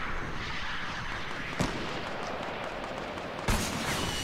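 Two sharp gunshot bursts from a video game gun, at about 1.6 and 3.5 seconds, ring out over a dense, steady wash of loud in-game ambient noise and rumble.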